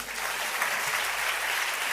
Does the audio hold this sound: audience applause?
yes